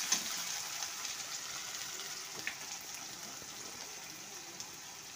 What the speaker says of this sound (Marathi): 1 वाटी बारीक चिरलेला कांदा टाकायचा आणि 1 चम्मच लसूण आल्याची पेस्ट टाकायची। छान परतून घ्यायचं।